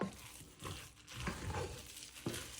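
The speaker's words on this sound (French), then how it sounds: "On va les mélanger" Rice beignet batter with vanilla being stirred in a bowl, heard as soft rhythmic swishes and scrapes of a utensil, with a few brief louder knocks, close and fairly quiet.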